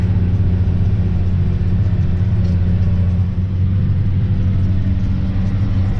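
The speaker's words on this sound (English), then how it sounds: "The field that the tractor is working in is pretty steep, so having this high horsepower out in front really helps pull up the hill" A John Deere 9620T tractor's engine pulls a disk up a steep field, a loud, steady low rumble that holds constant throughout with no talk.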